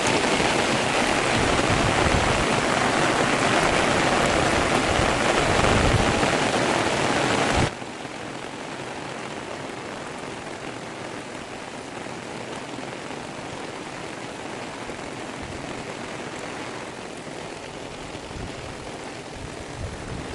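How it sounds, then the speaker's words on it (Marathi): Heavy monsoon rain pours down in a dense, steady roar for about twenty seconds. It is loud and close at first, then drops abruptly to a softer but still constant downpour. "मंडळी पाऊस जोरदार पडत आहे"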